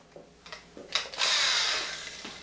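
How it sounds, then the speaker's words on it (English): A power drill bores a hole in a wall for a cut-in electrical outlet box. A few soft knocks come first, then a close, steady whirring grind that swells and slowly fades. "think I'm good to go to start drilling."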